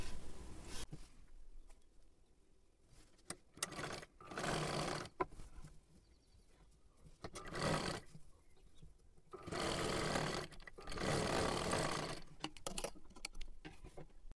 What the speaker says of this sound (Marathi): एकदम कडेकडेला आपल्याला पूर्ण ही शिलाई मारून घ्यायची आहे.